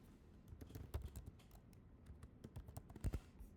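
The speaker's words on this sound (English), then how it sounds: "there's a lot of typing and no saving" Quiet keyboard typing on a computer in a classroom, a loose run of soft key clicks with short bursts and pauses, a little louder near the end, with no talking.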